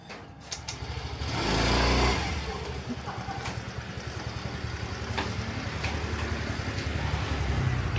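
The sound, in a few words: scooter engines passing on a Bangkok street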